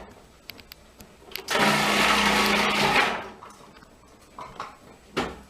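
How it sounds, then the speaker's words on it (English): A food processor whirs through vegetables for a Polish sauerkraut salad in one loud, steady burst of about a second and a half, with light kitchen clatter before and after. "We're going to put these through food processor now, so it's going to take you next to no time."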